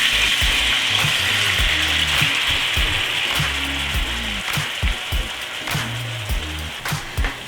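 Chicken sizzling loudly in a pan as a soy sauce mixture is added, a dense crackling fry with repeated low spoon knocks and stirring clatter, close and constant.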